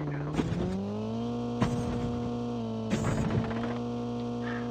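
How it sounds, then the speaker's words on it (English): A vehicle engine in the Call of Duty Mobile battle royale, a steady humming drone that shifts pitch as it approaches, with brief clicks and game effects over it. "I know that vehicle that's coming"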